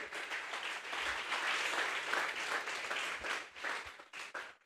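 Congregation in a Sunday church service clapping steadily and loudly together, a dense, sustained applause that swells and then thins out toward the end.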